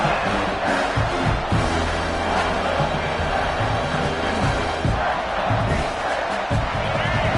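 A big football stadium crowd roars and cheers steadily at a South Carolina versus Michigan game as a third-and-long play begins, a dense, continuous wash of many voices throughout.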